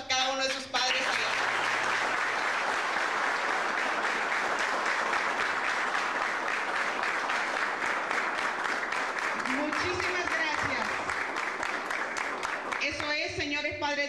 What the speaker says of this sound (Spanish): los alumnos vamos a brindarle un fuerte aplauso a cada uno de sus padres.